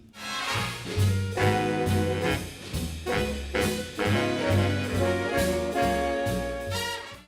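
A full band plays punchy, syncopated rhythmic figures with brass-like stabs over a steady low bass pulse, loud and continuous throughout.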